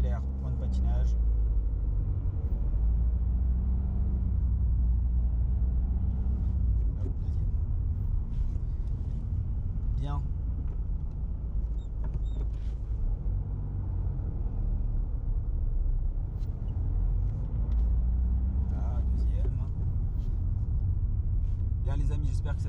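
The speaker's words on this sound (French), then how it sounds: "Donc j'accélère, point de patinage." A learner car pulling away at the clutch biting point in traffic, with a low engine rumble that swells and eases as other vehicles pass, under intermittent talk.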